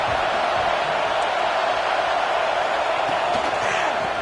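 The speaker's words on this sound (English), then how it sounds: "this crowd trying to help keep them there." Stadium crowd in a college football video game featuring Texas A&M, a steady loud roar of cheering and noise that fills the whole stretch with no break.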